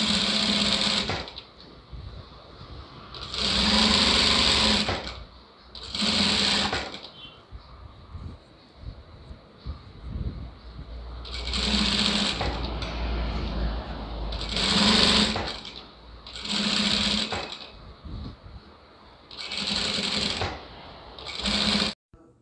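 A sewing machine stitches a lined blouse neckline in repeated bursts of rapid whirring, about seven loud runs separated by short pauses, with faint handling noise between them.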